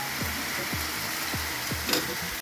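A stir-fry of spring onions and pork sizzles steadily in a hot pan after a splash of water, with a few soft repeated scrapes of stirring over the hiss.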